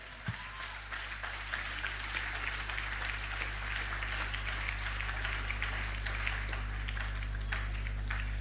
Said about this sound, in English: I think a louder applause is in order.